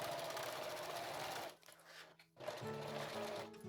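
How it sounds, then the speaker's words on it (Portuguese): A sewing machine stitches the side seam of a clear crystal plastic bag with a length-3 stitch, a steady close mechanical whirring that pauses briefly near the middle and then resumes. "Estou usando o ponto no comprimento 3 para fazer essa costura lateral"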